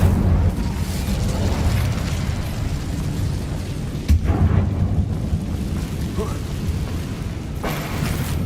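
Incendio fire spell cast in Hogwarts Legacy inside a dark abandoned mine, a booming fiery blast at the start and another heavy burst midway over a low rumbling ambience, with speech present.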